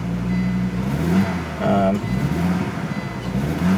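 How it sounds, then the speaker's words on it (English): A Volvo 850 GLT engine with a hesitation and slight miss runs and revs unevenly after the gas pedal is feathered, heard under someone talking. "After feathering the gas pedal, I'm able to get it going."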